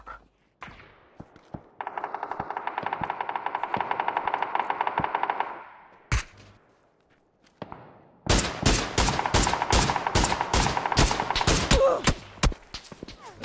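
Bursts of automatic gunfire sprayed in PUBG Battlegrounds: a long sustained burst, a pause, then a louder, denser volley of rapid shots close by, with sharp individual cracks toward the end.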